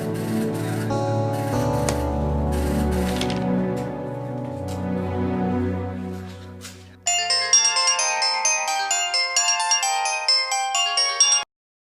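A phone ringtone plays after a call is placed, a bright melodic tone repeating in a steady pattern for several seconds, loud and clear, following a stretch of background music.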